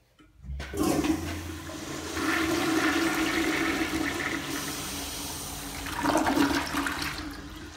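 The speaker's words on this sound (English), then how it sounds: "This one needs to be flushed." A 1960s Standard Modernus toilet on a flushometer, in a comfort station at Fish Creek Pond, is flushed: a sharp valve start, then a loud steady rush of water for several seconds and a second surge before it tapers off.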